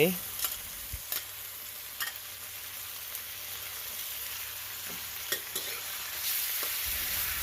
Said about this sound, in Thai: น้ำมันหอยพอเจอกับกระทะที่ร้อน